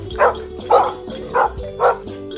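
A dog barks four times in a steady rhythm, loud and close, with short even gaps between barks and no talk.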